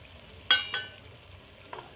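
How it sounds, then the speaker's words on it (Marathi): Onion and green chili browning in a pan, a steady low sizzle broken by a few sharp crackles and spatters near the start and again toward the end, with no talking. "कांदा आणि मिरची ब्राऊन होतवरी तळून घ्यायचं।"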